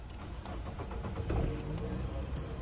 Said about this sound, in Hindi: गाड़ी अल्हम्दुलिल्लाह स्टार्ट हो गई है